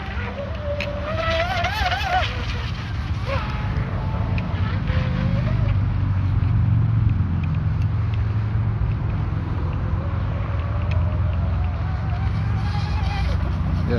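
A homemade radio-controlled F1-style powerboat on a 6S battery runs across the water with its outboard set too loose, a steady buzzing motor drone with shifting whine over continuous water noise; people talk intermittently over it.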